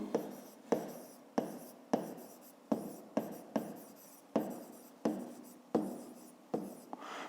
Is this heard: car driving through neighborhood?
no